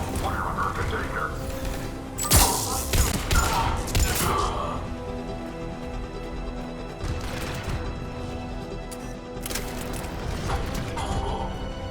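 Gunfire during a firefight at a checkpoint in the video game Mass Effect 3, with bursts of shots and crashing impacts under game dialogue and a background score.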